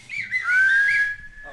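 A person whistles one short sliding tone that rises and then holds a steady pitch for about a second, close and clear, with no talk.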